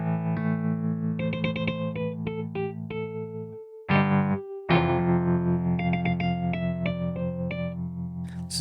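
Arturia Wurli V, a software Wurlitzer electric piano, played through an amp preset, with sustained chords and melodic notes under a slightly distorted, chorused tone, one brief pause near the middle, no talking.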